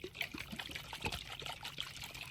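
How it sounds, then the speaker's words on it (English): Liquid sloshes and trickles inside a shaken coconut, a soft irregular swishing with a few sharper knocks, fairly quiet and close. "when you shake this, you're going to hear the water sound"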